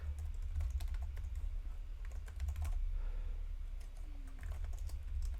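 Rapid clacking keystrokes on a computer keyboard come in irregular bursts, close and clear above a low steady hum, with no talking.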